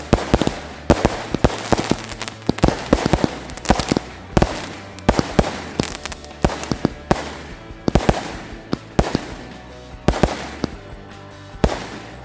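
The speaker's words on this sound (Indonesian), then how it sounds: "Itu dia hasilnya guys dari mercon Roman Candle Gladiator." Roman Candle Gladiator fireworks fire in a rapid string of sharp pops and bangs, loud and near, with crackling between the shots.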